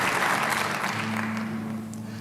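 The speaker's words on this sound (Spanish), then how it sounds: "Denles aplauso a Dios." Church congregation clapping during a sermon, strong at first and tapering off, with a steady low hum from the sound system sitting beneath the applause.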